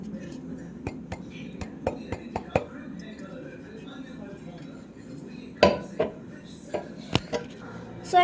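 A ground Oreo mixture is scraped and tipped into a bowl, making a run of light, close clinks and taps of a spoon against metal and glass dishes, with a few louder knocks near the end and a voice talking over it.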